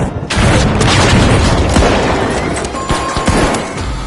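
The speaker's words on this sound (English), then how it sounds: "Sending a frag! Ouch, that's gotta hurt." A frag grenade blows up in a shooter video game, a loud booming blast with crashing debris that rolls on and slowly tails off.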